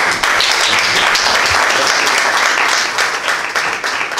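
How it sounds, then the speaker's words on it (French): A crowd at a business meetup breaks into loud, sustained applause, dense and close, holding steady before easing slightly at the end. "Applaudissements, s'il vous plaît."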